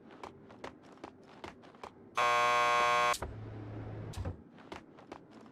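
In Max Payne 2, a door buzzer at a police station lockup sounds one loud, steady, harsh tone lasting about a second. Quiet footsteps fall before and after it.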